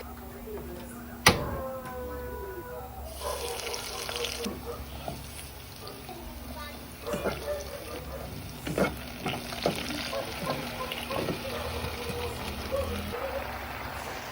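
Chicken feet cook in a pan, giving a steady low sizzle broken by scraping and clattering as they are stirred; fairly quiet, with a sharp knock near the start.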